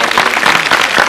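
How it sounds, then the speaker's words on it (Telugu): An in-studio audience on a Telugu TV game show claps and cheers for a winning girls' team, a dense and loud burst of applause with no speech over it. "క్లాప్."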